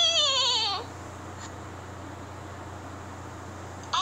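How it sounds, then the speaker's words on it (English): Animal-sound phone ringtone with a sheep or goat bleat rising and falling in stacked tones for under a second, then a quiet steady hum, with a brief second burst at the very end. "Those are phone ringtones that I'm working on."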